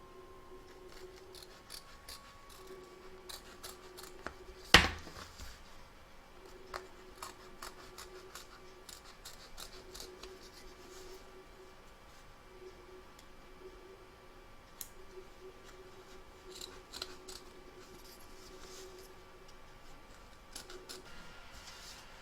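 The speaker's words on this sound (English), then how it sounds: "turn your hoop over and cut around the stitch line" Scissors snip through stitched fabric and batting around an embroidered snowman piece, a quiet series of close, crisp cuts at irregular intervals over a faint hum, with one sharp louder clack early on.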